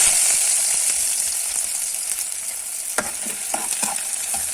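Onion frying in oil in a pan for a potato and spring onion dish, a steady close hiss of sizzling with a few brief stirring clinks and scrapes and no talk.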